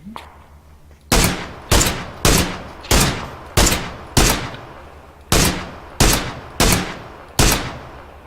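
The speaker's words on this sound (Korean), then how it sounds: "오른쪽 아래 오른쪽 아래 총소리 네" Single loud gunshots in the video game PUBG fired one at a time at a steady pace, each with a short decaying echo, about ten shots with a brief pause midway.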